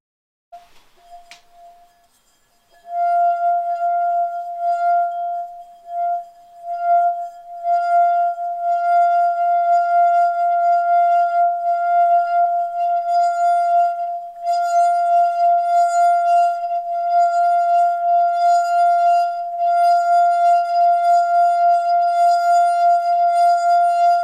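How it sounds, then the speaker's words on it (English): A wet wine glass rim rubbed by a fingertip sings a sustained pure tone with faint overtones, starting after a brief clink and swelling steadily, loud and close, with slight wavering as the finger circles. "You can wet the rim of a glass and run your finger round the rim, and it will make a sound."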